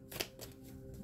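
A deck of tarot cards is shuffled by hand, a quick close riffle of papery flutters in two or three short bursts, crisp and near.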